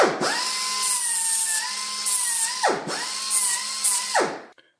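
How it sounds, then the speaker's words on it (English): A small right angle grinder deburrs the edges of cut steel plate, whining steadily and loudly in two long passes, its pitch dipping and spinning down between them, with no voices. "We're gonna run a little right angle grinder around, deburr all the edges"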